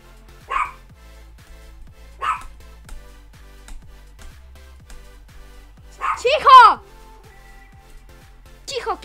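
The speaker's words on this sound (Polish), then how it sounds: "przepraszam widzowie za psa, bo ktoś przyszedł do domu" A pet dog at home barks in short separate bursts, reacting to someone arriving, with a longer whimpering yip near the end and a person talking over it.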